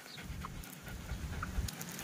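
A meat-type broiler chicken pants softly and rapidly on a poultry farm, a faint, breathy, continuous rasp with low rustling underneath.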